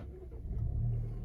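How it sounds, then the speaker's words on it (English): A 2020 Volvo S60 T6 AWD R-Design engine starting up, a low rumble that swells and settles into a steady idle, heard close and alone with no talk. "So let's start the car up."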